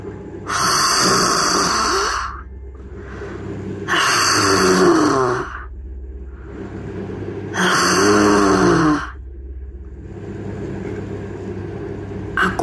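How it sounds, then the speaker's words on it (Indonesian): Three long, loud snoring breaths repeat at a slow regular rhythm, each rasping inhale followed by a quieter pause, close and isolated, used as an effect in a horror story. "Tiba-tiba, aku seperti mendengar suara dengkuran."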